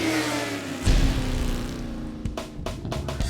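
Motorcycles on the Wall to Wall Ride, a gathering of uniformed riders, rumble close by with a steady engine drone that surges into a loud rev, followed by several sharp throttle blips and knocks near the end.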